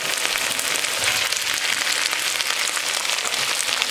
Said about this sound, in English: And we're going to stir fry this up